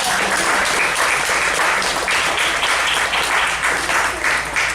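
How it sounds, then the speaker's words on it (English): An audience at a bookstore presentation applauds in a steady, dense burst of clapping that holds from start to finish without any voices. "Let's give another round of applause for"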